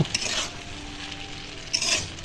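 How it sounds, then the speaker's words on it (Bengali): Cut long beans being stirred in a pan with salt and turmeric, with scraping utensil strokes, a couple of bright metallic clinks and a light sizzle underneath. "এখন দেব লবণ হলুদ দিয়ে এটাকে ভালোভাবে নাড়াচাড়া করে নেব"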